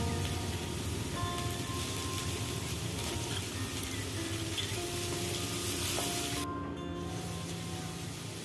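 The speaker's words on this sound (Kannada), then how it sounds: "ಬೀನ್ಸ್ 1 ಕಪ್ ಚಿಕ್ಕ ಪೀಸಸ್ ಚೆನ್ನಾಗಿ ಹಸಿ ವಾಸನೆ ಹೋಗೋವರೆಗೂ ಫ್ರೈ ಮಾಡಬೇಕು" Small cut beans fry in a pan, giving a steady, close sizzle with faint scraping of stirring underneath, continuous throughout.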